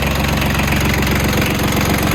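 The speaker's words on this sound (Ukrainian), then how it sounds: "Ось так виглядає сам мотор трьохциліндровий." A Yanmar EF 122 tractor's small three-cylinder diesel engine idles steadily with a rapid, even knocking pulse, loud and close, with no other sounds.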